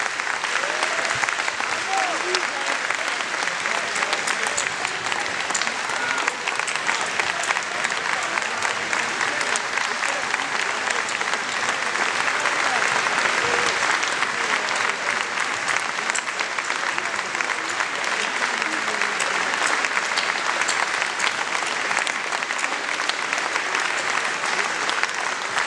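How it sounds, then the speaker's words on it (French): An audience at a 2015 departmental election campaign meeting in Levallois rising for a standing ovation, dense sustained applause that holds steady and loud throughout. "Et je voudrais vraiment qu'on leur fasse une standing ovation"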